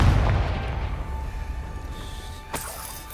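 The Confringo explosive spell in the video game Hogwarts Legacy bursts with a deep, loud boom that rumbles away over a few seconds. A sharp crack follows near the end, with no speech.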